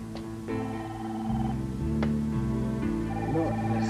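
A telephone rings in a 1995 Mexican telenovela scene, a repeating electronic ring set over steady tonal background music, with no voices.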